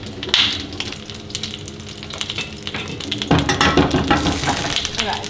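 Jalapeno and poblano peppers searing in a hot pan, crackling steadily, with sharper bursts of sizzle and some stirring clatter toward the end.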